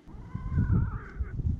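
A chicken beside a sun oven gives a strange drawn-out growling, meow-like call, a wavering nasal tone lasting about a second over low rustling and shuffling nearby.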